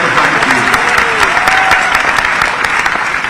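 Loud, dense crowd applause at an award ceremony in Bhopal greeting Olympian boxer Lovlina, continuous clapping filling the room with voices mixed in.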